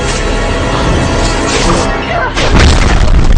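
A time bomb going off in the film Tomorrowland, a loud, dense rumbling blast that swells into a heavy boom about two-thirds of the way through, with a voice talking over it.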